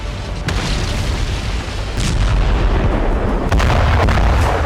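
Mortar and artillery fire in Zaporizhzhia, Ukraine, with heavy booming blasts at close range rolling over a constant rumble, several sharp impacts standing out over about five seconds.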